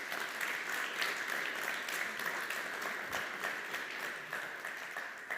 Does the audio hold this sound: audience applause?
yes